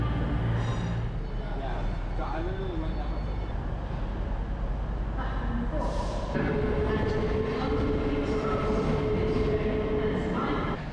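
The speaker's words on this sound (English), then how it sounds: "Here's a cross-country service on its way to Scotland." A CrossCountry passenger service bound for Scotland moves through Newcastle station, giving a low, steady rumble and drone. A sustained engine tone grows stronger partway through, and voices talk over it.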